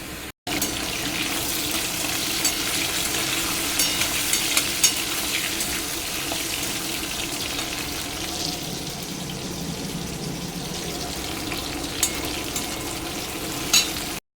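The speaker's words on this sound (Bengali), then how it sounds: "ও এই যে মাছের মাথা কষছে" Fish heads frying and being stirred in a pan for a Bengali New Year meal, a steady broad sizzle with scraping stir strokes and a few small clinks throughout, close and fairly loud, no talk.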